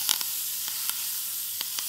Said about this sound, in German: Und jetzt gehen wir rein in das heiße Fett.